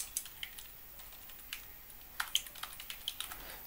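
Rapid, uneven clicking of keys on a computer keyboard, close and fairly quiet, coming in short bursts and single taps with brief pauses between, with no voice heard.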